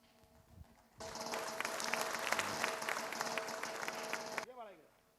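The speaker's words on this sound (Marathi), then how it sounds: "ह्या रिक्षाचालकाचा एक टाळ्या वाजून जोरदार स्वागत करा" An audience breaks into loud sustained applause for a rickshaw driver at a rickshaw association honour ceremony, running about three and a half seconds before fading out, with a voice over a sound system briefly before and after.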